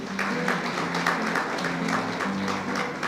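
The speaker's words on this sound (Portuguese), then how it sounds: "Uma salva de palmas para eles." A congregation at an evangelical church service claps together, a steady, fairly loud wash of applause with a soft low tonal hum of music beneath it.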